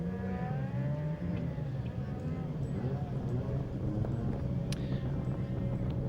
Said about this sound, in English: We can hear in the background another of our attractions. We've got some rallycross cars, the RX 150 buggies being demonstrated.